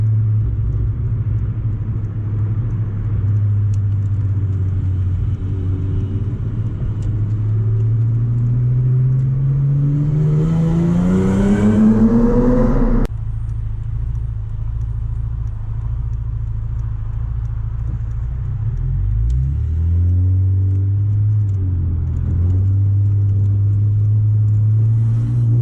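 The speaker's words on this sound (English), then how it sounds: "You really get that loud supercharger whine." Chrysler Crossfire SRT6 track car engine with supercharger, a loud close rumble that revs up steadily with a rising whine, cuts off sharply, then settles back to a low drone and builds again.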